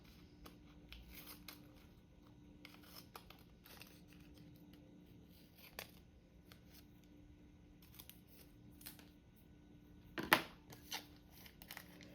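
Scissors trim strong washi tape on paper craft material made from junk mail and book pages, giving quiet, sparse snips and crinkles close by, with one sharper cut standing out near the end.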